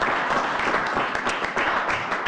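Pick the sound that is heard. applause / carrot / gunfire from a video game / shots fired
applause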